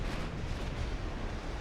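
Naval guns firing high-explosive shells in the warship game Ultimate Admiral Dreadnoughts, a dense, rumbling roar of heavy blasts merging into one continuous booming wash with no clear gaps.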